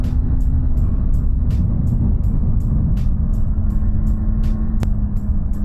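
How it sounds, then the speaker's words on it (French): Cars approaching along a road, heard from a moving motorcycle under a constant loud rumble of engine and wind, with a faint, regular ticking pattern running through. "il y a des voitures qui arrivent"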